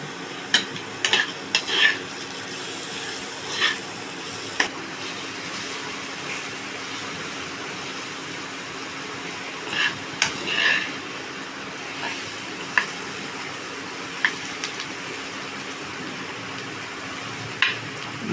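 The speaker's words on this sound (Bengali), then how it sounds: "হলুদটা ভাজা ভাজা হয়ে গেছে।" Turmeric fries in a pan for a vegetarian banana-flower dish, a low steady sizzle with occasional sharp clinks and scrapes of a utensil against the pan.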